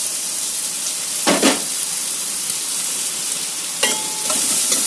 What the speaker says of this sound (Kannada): ಇದನ್ನ ಚೆನ್ನಾಗಿ ಕಲಿಸ್ತಾ ಇದ್ದೀನಿ.